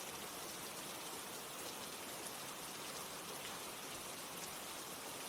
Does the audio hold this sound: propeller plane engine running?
no